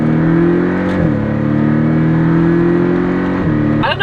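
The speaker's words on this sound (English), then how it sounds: "With the sport driving mode and that open exhaust, it sounds really good for a flat four." A Porsche 718 Cayman S flat-four engine pulls hard under acceleration in sport mode with open exhaust, its exhaust note rising steadily with brief drops at gear shifts, loud and close.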